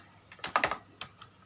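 A Linux tar command typed on a computer keyboard, a quick close cluster of about half a dozen light key clicks followed by one or two more taps, with no talking.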